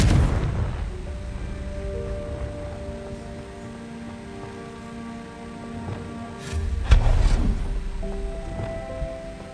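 A fiery Confringo spell explodes in the Hogwarts Legacy video game: a low rumbling game soundscape builds to one sharp, loud blast near the end, followed by a fading roar.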